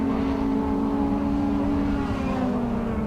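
Rallycross race cars at Pembrey roar past at close range, a loud continuous engine drone with a shifting pitch as they come down into a corner.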